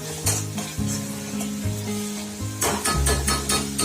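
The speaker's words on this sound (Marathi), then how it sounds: "हे वाटलेला मसाला असतो वाटत हे टाकायचं आधी हा तेलात जरा भाजून घ्यायचं" Ground masala roasting in oil for a Maharashtrian chicken rassa curry, a loud, continuous sizzle close by with repeated scraping strokes of a spoon stirring the pan, and nobody talking.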